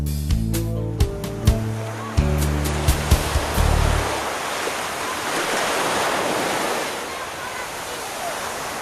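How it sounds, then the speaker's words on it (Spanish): Sea waves on the Alentejo coast of Portugal, a broad rushing surf that swells and washes in after a few seconds of music, loud and close with wind noise on the microphone. "El mar."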